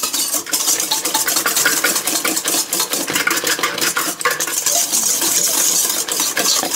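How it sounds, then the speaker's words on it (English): A wire whisk stirs cake batter in a bowl, a fast, steady scraping and clinking that runs continuously from start to finish without any talk. "I already have a whisk that's dirty, so I'm just gonna whisk this up a little bit just to get everything coated right"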